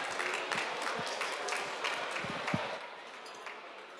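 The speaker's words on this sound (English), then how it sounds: "Please everyone give Agilicis a round of applause." Audience applause for sponsors at a culinary competition, a scattered round of clapping from a modest crowd with a few sharp claps standing out, tapering off toward the end.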